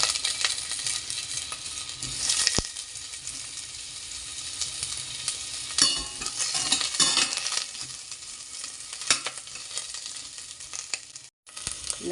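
Onion sautéing with garlic and ginger in a hot pan, a steady crackling sizzle throughout with a few sharp clinks and stirring scrapes, no voices.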